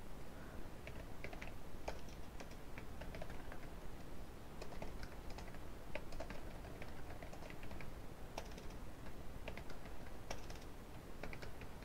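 Computer keyboard typing while building a PowerPoint slide, a steady run of quiet, rapid key clicks with scattered sharper taps over a low background hum, no talking.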